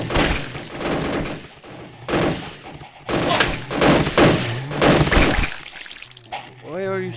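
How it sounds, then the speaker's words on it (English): Gunfire in the zombie game Shambles rattles out in repeated bursts of loud shots, dense and close, with a short voiced exclamation near the end. "Why are you shooting at me for?"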